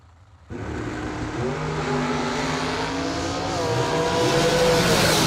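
A Hemi-engined drag race car roars to life and accelerates hard, its pitch climbing steadily as the loud, raspy exhaust builds and holds.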